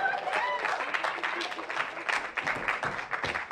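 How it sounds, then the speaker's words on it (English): An audience claps and applauds, a steady patter of many hands at moderate volume, with some voices mixed in. "Round of applause"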